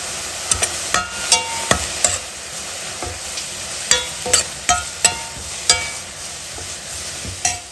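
Food roasting in a pan, stirred with a utensil that knocks and scrapes against the metal in a loose repeating rhythm of sharp clicks over a quiet sizzle, close and alone.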